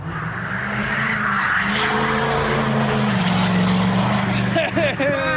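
A wrecked truck's engine roars loudly and steadily, its droning pitch climbing as it revs, jet-like, with a voice briefly audible over it.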